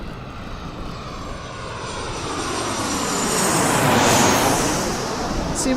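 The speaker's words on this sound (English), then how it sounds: "See what I mean? I didn't even see where that plane was." A fixed-wing airplane flies past in the VR Coaster Extreme game, its broad engine roar swelling steadily to a loud peak near the end of the pass before easing slightly.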